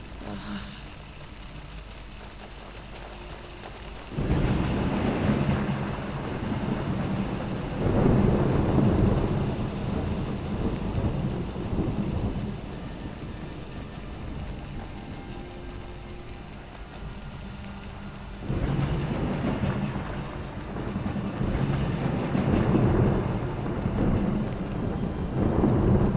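Rain falls steadily in the Skyrim game world while heavy rolls of thunder swell in twice, long and rumbling, over the continuous downpour.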